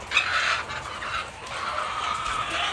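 Chickens cluck and squawk inside a small backyard poultry house, several birds calling close by in a busy, overlapping chatter with no one speaking.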